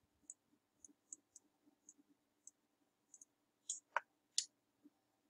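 Quiet, distinct mouse clicks, a series of single taps at irregular intervals, close and alone in an otherwise still room.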